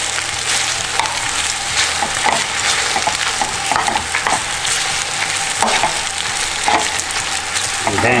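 Spinach wilts in a hot pan for shrimp alfredo, a loud, close, continuous sizzle broken by scattered scrapes and clicks as it is stirred.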